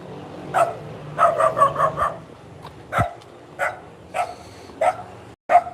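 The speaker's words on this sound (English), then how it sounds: "He's scared. That's why he's barking." A frightened dog barks repeatedly nearby, sending out loud, separate barks at irregular intervals and sometimes in quick bursts of two or three, with no talking heard between them.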